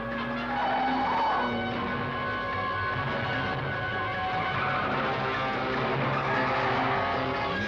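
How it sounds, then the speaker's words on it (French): Car in a controlled skid with tampered brakes, a long continuous tire squeal and engine drone held steadily and loud for several seconds, heard without talk. "c'était un dérapage contrôlé"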